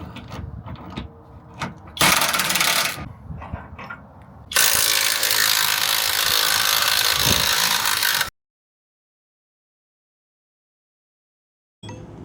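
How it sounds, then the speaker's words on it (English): A wrench ratchets as it removes the nut from a shock bolt on a Ram 1500 during a Rancho adjustable shock upgrade. Close mechanical clicking comes in two longer loud bursts, with quieter handling noises between them and silence at the end. "use a wrench on the other side to hold in the bolt while you"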